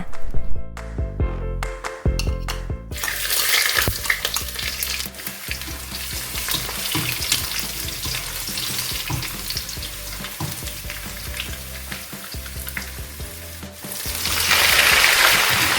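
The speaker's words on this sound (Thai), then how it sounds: "อุ่นให้ร้อนเสร็จแล้วก็นำกระเทียมลงไปผัดให้หอมค่ะ" Garlic frying in hot rice bran oil in a pan, a steady loud sizzle with stirring scrapes, rising after a few seconds of music at the start and holding throughout.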